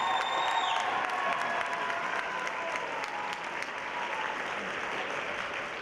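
Audience at a high school pops concert applauds steadily with some cheering and whoops, a dense sustained wash of clapping throughout, fairly loud and even with no speech over it.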